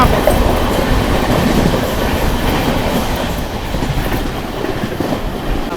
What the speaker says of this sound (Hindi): पहली क्रॉसिंग चौरी चौरा एक्सप्रेस के साथ